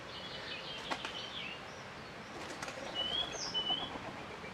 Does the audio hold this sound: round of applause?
no